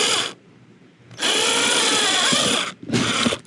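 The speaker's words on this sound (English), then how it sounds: "So that's where I drill the second hole." A power drill whirs in two bursts, drilling through ABS plastic backing of a motorcycle swingarm bag, a long steady run and then a shorter one, close and loud with a pause between.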